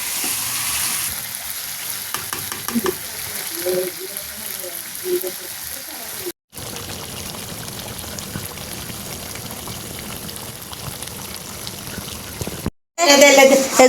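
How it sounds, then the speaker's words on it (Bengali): Duck meat being sautéed in ground spice paste sizzles and fries steadily in a pan, with stirring scrapes, a voice talking over it, and two brief gaps before a louder burst at the end. "যে মাংস দেওয়া শেষ, এখন কষাইবো ভালো করে"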